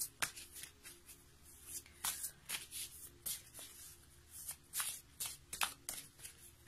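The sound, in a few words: shuffling tarot cards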